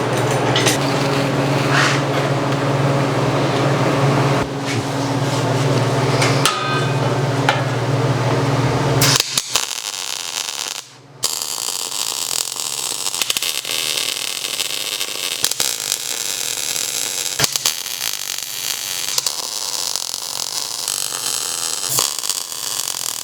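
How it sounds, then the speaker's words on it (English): Tack welds join steel for a CNC router frame: a loud, harsh buzzing arc runs for several seconds, then shorter crackling bursts and clanks follow after a brief pause. "I'm just going to slowly start tack welding it across"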